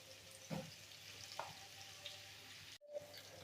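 Faint, steady sizzling of potatoes frying in a pan over raised heat, with a few soft clicks and a brief dropout near the end.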